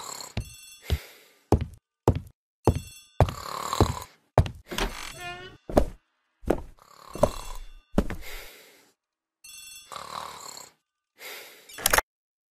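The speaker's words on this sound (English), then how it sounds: "The telephone in the hall is ringing." A telephone in a hall rings in repeated short bursts, with clicks and knocks between them at an uneven rhythm, heard up close.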